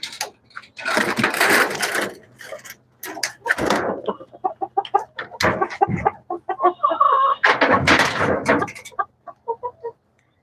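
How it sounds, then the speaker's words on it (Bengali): Several hens cluck in short, uneven bursts close by, with a few louder squawking flurries standing out over a steady low hum. "দেখতে পাচ্ছেন এখানে রয়েছে আমার মুরগিগুলো রয়েছে"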